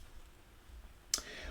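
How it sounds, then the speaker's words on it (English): A single sharp key click on a computer keyboard, typing a comma into an Excel VLOOKUP formula, stands out once near the end against quiet room noise. "Use your keyboard and type in comma."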